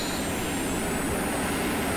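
A jet aircraft engine in the Falcon BMS flight simulator powers up during a short-takeoff run off an amphibious assault ship, a loud steady roar with a high whine, continuous and without pauses.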